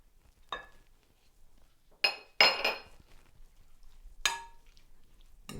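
A spoon clinks against a glass bowl while Grey Poupon mustard is mixed into chopped herbs, with a few sharp separate clinks and soft scraping between them in a quiet room.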